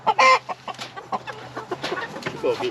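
Chickens cluck and squawk close by, with a loud burst at the start followed by steady clucking and scattered background voices.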